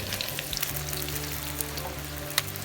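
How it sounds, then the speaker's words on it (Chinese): Shrimp deep-fry in oil heated to about sixty percent, a steady close sizzle with scattered bright crackles and pops throughout. "下大虾，炸大约2分钟。"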